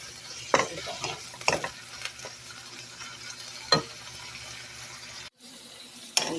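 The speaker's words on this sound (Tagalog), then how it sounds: "Gisa-gisa muna natin ng mabuti." Corned beef sautés in a pan with a low background sizzle, punctuated by several sharp scraping and clanking strokes of a spatula stirring, then a brief pause and another clatter.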